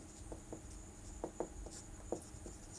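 A pen writes out a maths solution by hand, producing faint, soft scratches and light taps in short irregular strokes against quiet background hiss.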